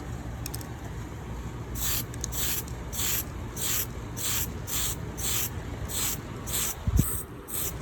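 Short repeated bursts of aerosol spray paint hiss onto a NASCAR 75th anniversary model car, a dozen even puffs in a steady rhythm, close and fairly loud, with a faint knock near the end.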